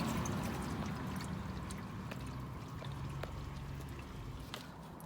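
Hot engine oil pouring and dribbling out of a Vauxhall Corsa VXR sump, a faint, steady liquid splatter and trickle that continues without a break.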